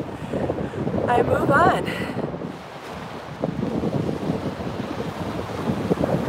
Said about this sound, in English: the wind is just going straight to my bone